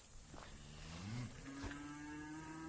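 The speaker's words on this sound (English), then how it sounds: "So let's go move the cows real quick." Cattle grazing on a pasture that is running short of forage let out a couple of long, low moos at moderate distance over steady outdoor background noise.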